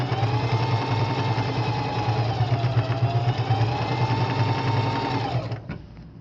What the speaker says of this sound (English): you want to try to sew as straight as possible